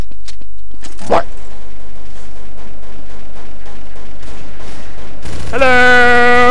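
P90 submachine gun fire in Counter-Strike: rapid, evenly spaced automatic bursts run steadily for several seconds, then a sustained tonal game sound follows.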